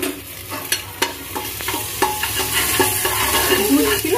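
Ginger and garlic fry and are stirred in a pan, a steady sizzle broken by a series of sharp scraping and clinking strokes as a utensil moves through the pan, close and fairly loud, with no talking.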